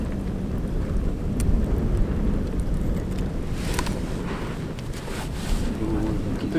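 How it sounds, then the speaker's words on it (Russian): Strong wind buffets the microphone at a riverbank fishing camp, a steady low roar with gusty rumble throughout, loud and close, with faint voices underneath. "Это ветрюган, а?"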